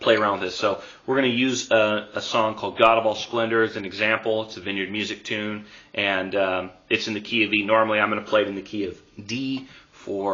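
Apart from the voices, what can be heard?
None of the usual background noises is heard.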